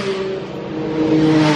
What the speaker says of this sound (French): il y a 10 motos là qui viennent de passer à fond